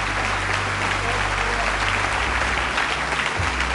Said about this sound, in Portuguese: só quem crê aplauda bem forte e dá glória a Deus